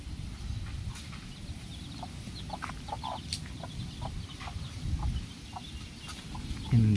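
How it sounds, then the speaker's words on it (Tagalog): Chickens kept beside a small roadside home cluck and chatter at moderate distance, scattered short calls over a low outdoor rumble, with a louder close sound near the end. "Kaya may manok po sila."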